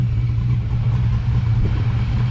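A modified car engine rumbles at a Cars and Coffee show, a steady, deep, close rumble that holds even throughout with no clear revs.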